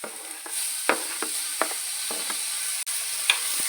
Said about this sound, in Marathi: टोमॅटोलाही छान परतून घेऊया.